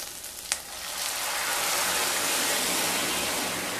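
Spices frying in hot oil for lau dal with egg, a sharp tap at first, then a loud, continuous sizzle that swells and holds steady.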